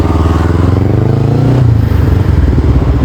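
A motorcycle fitted with an aftermarket exhaust revs continuously at close range, giving a loud, deep, round engine note that rises and falls through the whole stretch.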